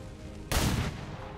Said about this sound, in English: Can I hit him with the pistol?